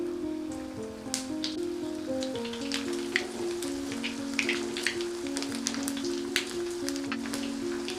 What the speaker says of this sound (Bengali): এবার বাকি বলগুলো তেলের মধ্যে নিয়ে নিচ্ছি।